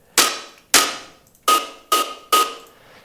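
Synthesizer patch built from a single sine oscillator modulated by a noise-like waveform, high-pass filtered: five sharp percussive hits with a metallic ring, quickly decaying, unevenly spaced, close and alone.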